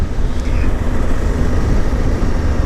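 A Suzuki V-Strom 800 DE motorcycle exhaust rumbles steadily while riding, a loud low drone mixed with rushing wind noise throughout.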